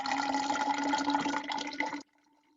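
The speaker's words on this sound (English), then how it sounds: "So I'm going to pour the water in here." Water pours steadily into a container for about two seconds, then stops abruptly and leaves only a faint hum.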